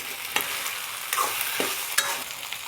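Spring onion and tomato being stirred into rice in a hot pan for a quick breakfast, with a steady sizzle broken by a few sharp scrapes and clinks of the spoon.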